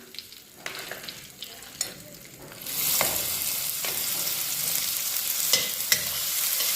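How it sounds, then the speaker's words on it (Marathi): Oil with asafoetida and turmeric sizzling quietly, then chopped onion goes into the hot oil and the frying surges to a loud, steady hiss with occasional stirring scrapes, close up. "तेल तापलं की हिंग, हळद, त्यानंतर आपण बारीक कांदा चिरून ठेवलेला आहे तोही घालायचा आहे"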